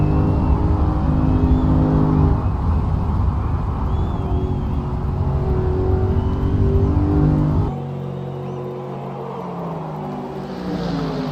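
A DTM race car in a sim racing game at the British Grand Prix accelerates hard, its engine roaring loud and steady with a noticeable drop in pitch partway through, no talk over it.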